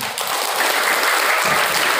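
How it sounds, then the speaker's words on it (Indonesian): Dense, continuous audience applause fills a hall during a parenting segment at an Indonesian Islamic boarding school, holding at an even level throughout with no speech over it. "Tepuk tangan yang sudah mandiri pesantrennya."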